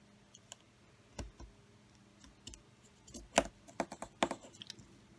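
A small stitch piercer tool rolls across paper, punching holes for stitching, heard as scattered light clicks and ticks that bunch up near the end, quiet and close with no talking.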